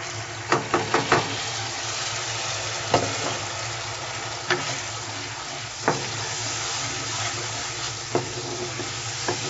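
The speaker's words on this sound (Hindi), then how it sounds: "दो मिनट फ्राई करेंगे इसे और चम्मच चलाते रहेंगे" Ginger garlic paste and spices frying in a pan for chicken tandoori masala, with a steady sizzle throughout and a spoon repeatedly scraping and tapping the pan in irregular clicks.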